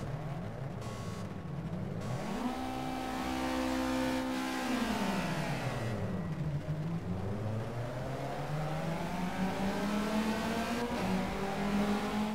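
Racing cars in the Project CARS video game pull away from the back of the grid in foggy, rainy weather, engines droning and revving steadily with rising and falling pitch, loud and continuous with no talk.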